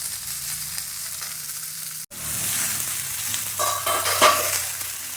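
Bitter gourd and other vegetables for Bengali shukto sizzle in a pan, with a brief break in the hiss and then a louder stretch of stirring and scraping close by, no talk.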